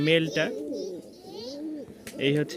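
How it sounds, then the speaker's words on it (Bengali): Domestic pigeons coo in close, repeated throaty bursts, with softer bird sounds and a voice speaking in between. "কারণ ছেড়ে পালা এই কবুতরগুলা"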